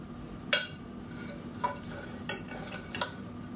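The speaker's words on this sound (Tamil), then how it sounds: "கீழேருந்து மேலே வரைக்கும் கிளறி விட்டுக்கலாம்" A spoon scrapes through cooked brinji rice in a pot, stirring it from the bottom up, giving four soft clinks spaced about a second apart over a quiet background.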